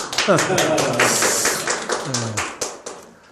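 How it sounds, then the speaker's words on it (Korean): A seated audience at a poetry-writing workshop claps in sharp, separate bursts, close and fairly loud, while a voice speaks briefly at the start and again partway through. "박수 한번 쳐주세요."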